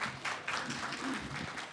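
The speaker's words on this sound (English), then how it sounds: "Let's give him a round of applause." Brief applause from a conference audience at a fertility clinic talk, a short burst of clapping over low background noise.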